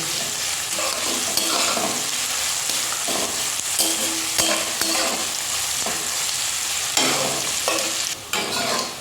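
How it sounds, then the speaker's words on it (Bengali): Onions frying in a pan, a loud continuous close sizzle with occasional stirring scrapes and pops, no voices. "তো পেঁয়াজটাকে আমি লাল লাল করে কিন্তু ফ্রাই করে নেব।"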